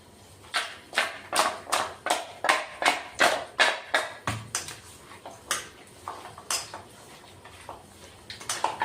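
Raw mutton being worked by hand with salt and turmeric in a home kitchen, heard as a steady run of about a dozen wet, slapping squelches at a regular rhythm, then sparser, softer pats toward the end.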